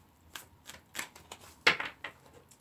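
Tarot oracle cards from a love deck are shuffled and laid down in a few quick, soft riffles and papery slaps, close and quiet, with no talking.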